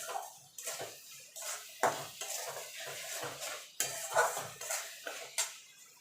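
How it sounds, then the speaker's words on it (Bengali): Spice masala for chicken curry sautéed in a pan, with a spoon or spatula scraping and clattering against the metal in irregular strokes, close up and with no talking. "এবার মশলাটাকে একটু কষিয়ে নেব।"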